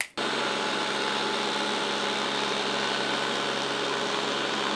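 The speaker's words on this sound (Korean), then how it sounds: "제가 사용하고 있던 타사의 로봇 청소기는 진공 청소를 하면서 이런 소리가 나고" Steady, loud whirring hum of a robot vacuum cleaning, a dense broadband motor and suction roar that runs continuously after a brief start, with no voices.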